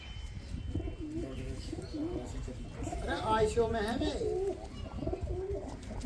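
Pigeons kept in a cage coo repeatedly in soft, throaty phrases under steady men's conversation, with the birds' calls fairly close and rising most clearly midway through.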